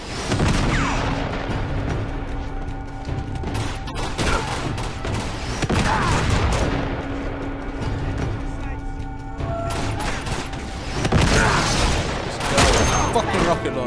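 Rocket launcher fire in Uncharted 2: several heavy blasts and crashing impacts spaced a few seconds apart, amid continuous gunfire and battle noise, loud and close.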